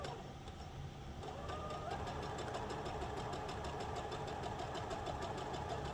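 A sewing machine chain-pieces quilt fabric pieces with a steady rapid mechanical rhythm, running close and continuously after a brief softer start.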